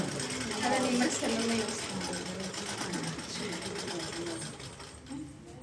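An electric sewing machine stitches slowly through thick fabric at a seam, its rapid needle chatter running steadily for several seconds while a person talks over it.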